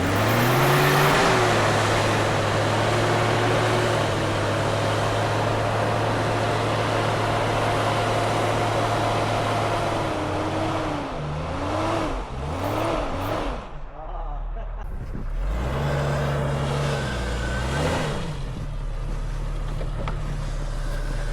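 A Jeep stuck off-road roars with a sustained engine drone, then revs up and down in surges as it tries to back out, loud and close, with voices at times.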